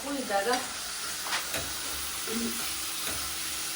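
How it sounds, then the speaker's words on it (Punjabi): Spices tempering in hot oil sizzle with a soft hiss, punctuated by a few spoon scrapes and brief crackles; no talking. "ਆਪਣਾ ਤੜਕਾ"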